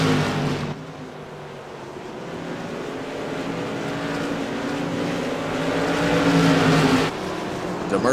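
Modified race cars battle side by side at Irwindale Speedway, their engines roaring loud and continuous with rising and falling pitch as they run close together around the track.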